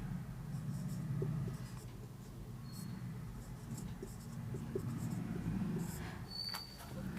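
Chalk or marker writing on a classroom board during a geography lesson, a steady scratchy scrawl with brief stroke taps running under low room noise, close and continuous throughout.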